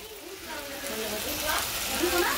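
A Bengali vegetarian vegetable dish cooking slowly over low heat, with a continuous gentle sizzle and faint stirring noises, and a voice speaking over it.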